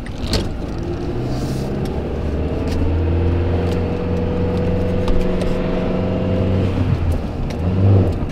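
A car drives along a road at steady speed, its engine droning with a constant low hum and faint rattles from inside the cabin, and nobody speaking.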